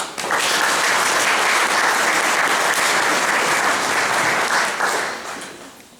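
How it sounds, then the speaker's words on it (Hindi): A church congregation claps steadily to welcome someone during a Christmas Day service in Kanti Karra, the applause loud and sustained for several seconds before fading out. "आइए हम लोग भाई का ताली बजाकर आज के दिन स्वागत करते हैं"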